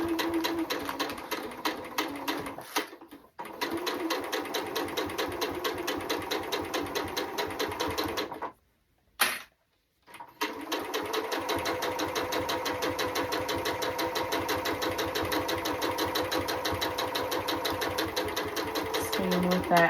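A sewing machine runs steadily, stitching a baby burp cloth seam with a half-inch allowance, a fast even whirring chatter that stops briefly twice before carrying on.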